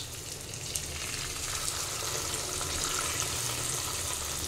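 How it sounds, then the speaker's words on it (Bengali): Milk added to a hot pan on a low gas flame for a Bengali dudh potol vegetarian dish, giving a steady, close sizzle and bubbling hiss that runs evenly throughout with no talk. "এবার আমি গ্যাসের ফ্লেমটাকে একটু লো করে দিয়ে দুধটা অ্যাড করব"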